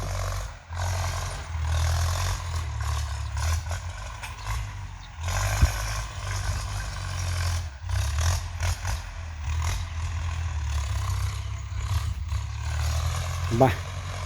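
A Ford tractor plows a field while hired for work, its steady low diesel drone running loud and continuous with clattering and scraping on top and a brief rising whine near the end.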